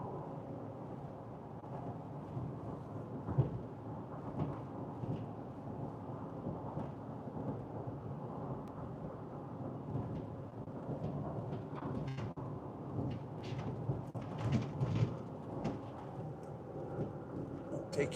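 Steady rumble of a thunderstorm over the Colorado plains, with a low continuous roll and some broadband rain or wind noise, moderately loud and unbroken throughout.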